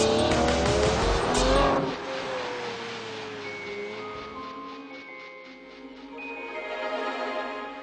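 A Lamborghini Murcielago LP670-4 SV V12 supercar corners hard, a loud, close burst of engine and tyre noise that eases into a sustained, whining engine note with shifting pitch as the car flows through the bends.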